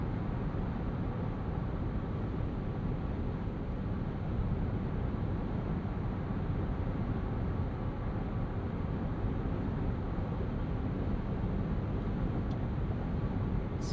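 Steady broadband road and engine rumble inside the cabin of a 2025 Nissan Frontier Pro-4X V6 midsize truck merging onto a highway, a constant low roar with no talking.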